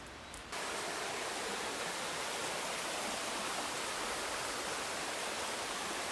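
Peddler Creek's cold water rushes loudly and continuously close by, a dense broadband roar that starts abruptly after a brief quieter moment and holds steady throughout.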